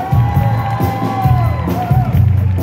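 A live audience at a band's tribute concert to a drummer cheers and whoops loudly, a steady crowd roar with rising shouts and some talk mixed in throughout.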